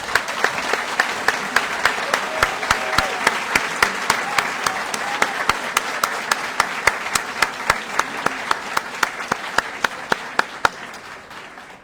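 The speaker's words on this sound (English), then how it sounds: "Please join me in a round of applause for our graduates" Applause for graduates at a naval basic qualification course ceremony: a continuous wash of many hands clapping, with sharp individual claps standing out in a steady rapid rhythm throughout, tapering slightly near the end.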